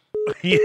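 A phone emits short electronic beeps during a call, a steady tone followed by another tone, with a person speaking briefly over it.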